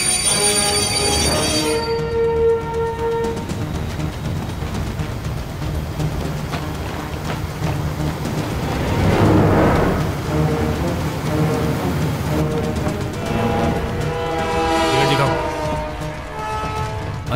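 Close, continuous rumble of a moving train slowing at a red signal, with clattering wheels and drawn-out metallic squeals rising and fading.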